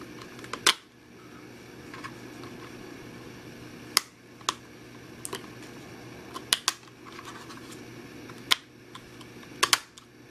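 A RAM module clicking into the slot of an older notebook, giving several sharp, close plastic clicks and snaps spaced irregularly against a quiet room.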